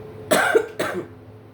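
Two close, distinct coughs in quick succession, then quiet.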